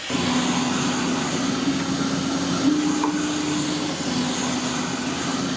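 A EufyMake E1 UV printer printing stickers gives a steady, loud mechanical whir with a constant hum underneath and a few faint clicks, running without pause and with no voices.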